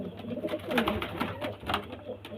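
Pigeons cooing close by in a loft, with overlapping rolling coos and some fluttering and shuffling.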